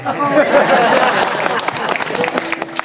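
An audience at a village devotional gathering in Malhangaon breaks into a short burst of clapping that fades into murmuring crowd chatter.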